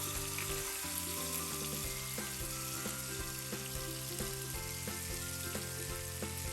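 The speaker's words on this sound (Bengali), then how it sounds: "প্রথমে তেলটা দেওয়ার পরে বিসমেল্লা করে পেঁয়াজ বাটাটা দিয়ে দেবো" Onion paste frying in hot oil in a home kitchen for a rohu mustard fish curry, a continuous close sizzle with faint stirring beneath it and no voices.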